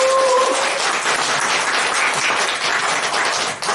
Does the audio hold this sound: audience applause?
yes